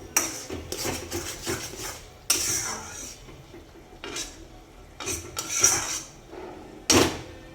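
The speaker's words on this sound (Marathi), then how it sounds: "हा मसाला परतून घ्यायचा आहे" Masala for a prawn curry is sautéed in oil, with repeated clattering scrapes and knocks of a spatula against the pan in uneven bursts over a faint frying hiss.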